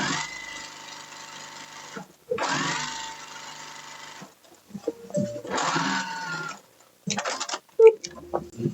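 A sewing machine stay stitching the front bodice of a wrap dress runs in several short bursts of steady whirring, with pauses between and small handling clicks and rustles.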